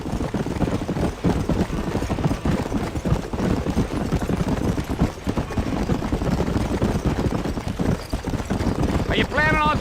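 Horse hooves clip-clopping in a steady galloping rhythm in the video game Red Dead Redemption, running continuously under game dialogue and background sound.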